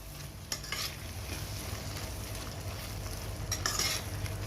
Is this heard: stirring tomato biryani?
yes